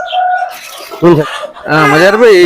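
An Aseel rooster crows loudly and close, a long strained call, with a shorter squawk between.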